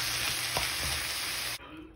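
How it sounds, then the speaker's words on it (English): Broccoli stir-frying in a wok makes a loud, continuous hissing sizzle with a few faint stirring knocks, cutting off sharply near the end. "I actually cook it in a wok, and it's really good that way."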